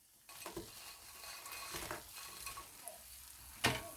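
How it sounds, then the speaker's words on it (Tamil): Fried paneer stirred into sauce in a pan, quiet sticky scraping and soft sizzling with a few light clinks of the utensil, one sharper knock near the end, heard close up without voices. "இதை நல்லா மிக்ஸ் பண்ணி விட்டுருங்க."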